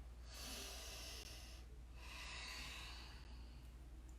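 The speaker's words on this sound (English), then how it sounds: "take a couple of deep breaths here" Slow, deep breaths during a yoga forward fold, two long airy cycles close to the listener, steady and unhurried over a low hum, with no talking.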